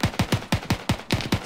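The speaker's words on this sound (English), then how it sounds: "they're shooting at 230 from our position" Distant machine gun fire sounds as a rapid string of about eight evenly spaced bursting shots, loud and punchy, with no voices.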